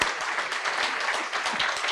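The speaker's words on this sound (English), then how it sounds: "let's give her a round of applause" A crowd at a university healthcare scholarship announcement applauds, steady dense clapping filling two seconds at moderate loudness.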